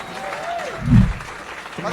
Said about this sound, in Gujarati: એકવાર જોરદાર તાળીઓ થઈ જાય.